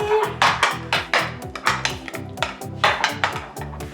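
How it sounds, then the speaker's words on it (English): Utensil scraping and clinking against a bowl while yogurt marinade with salt, pepper and spices for Persian saffron chicken kabobs is stirred, in repeated close strokes with no talk, over a low steady tonal hum. "give it a stir"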